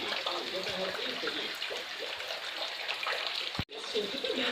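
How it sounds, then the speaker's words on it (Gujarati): Steady rain patters and splashes throughout, with voices talking over it and a brief sharp dropout near the end. "રોજની ઘોડે વરસાદ જો શરૂ થઈ ગયો છે"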